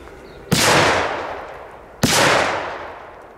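Two loud firework bangers explode about a second and a half apart outdoors, each a sharp crack followed by a long rolling echo that slowly fades.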